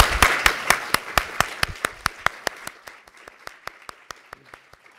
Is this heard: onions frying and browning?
no